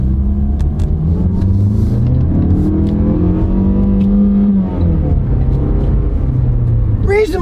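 A Toyota-rivaling car accelerating in first gear with a manual shift mode, engine rising in pitch with a steady close rumble, then settling before a short final rev.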